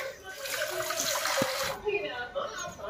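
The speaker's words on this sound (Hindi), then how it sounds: "यहाँ से पानी थोड़ा इसमें लेते हैं।" Tap water pours into a pot for making tea, a steady loud rushing splash that stops partway through, followed by softer handling noises.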